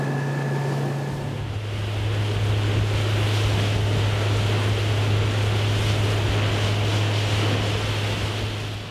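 A Quintrex Renegade 460 aluminium boat with a Yamaha F60 four-stroke outboard cruises at about 4,000 RPM, giving a loud, steady engine drone mixed with water rush and wind, with no talking.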